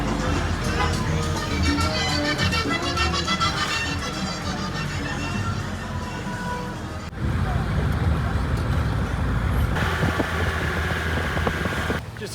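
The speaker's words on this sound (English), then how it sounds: "This is the bus we're going to take to Minca." A bus bound for Minca, Colombia rumbles along with a loud, steady engine drone and road noise, the sound shifting abruptly partway through as the ride continues.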